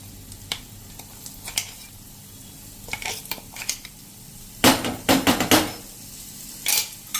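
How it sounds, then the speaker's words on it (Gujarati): Freshly made chutney paste sizzling in hot oil in a pan for khatiya dhokla, with soft frying hiss broken by several sharp stirring scrapes and clinks of a utensil against the pan, close and without talk. "હવે એમાં આપણે આ ચટણી જે બનાવી છે એ નાખી દેશું"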